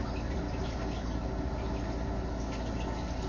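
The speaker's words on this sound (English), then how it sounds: "We're going to see if we can run some water up here" Steady rushing water pours and splashes continuously into a drain, a dense even wash of sound with no pauses or voices.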